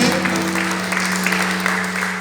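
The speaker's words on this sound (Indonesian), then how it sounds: "Yang bersuka cita tepuk tangan buat Tuhan kita." An Indonesian church congregation claps steadily during an online worship service, the sustained applause running over a continuous held musical tone.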